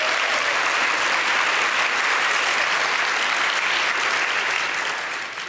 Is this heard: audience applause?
yes